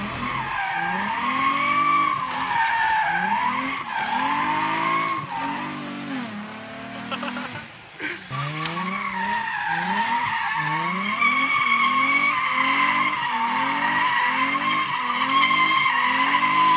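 A car with a welded differential drifts, its tires squealing and skidding in long wavering howls while the engine revs rise and fall in repeated surges, loud and close, with a brief dip midway.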